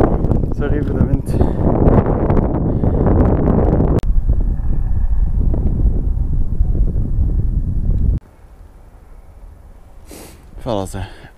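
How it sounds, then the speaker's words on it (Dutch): Wind buffets a microphone outdoors on a walk in Limburg, Belgium, a loud low rumbling roar for about eight seconds that then drops to a quieter hum, with a voice speaking through parts of it. "Sorry voor de wind."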